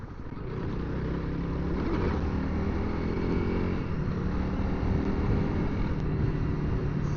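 A Honda CRF300L dual-sport motorcycle rides over loose gravel in Arizona, its engine droning loud and steady throughout with rough, continuous road and wind noise.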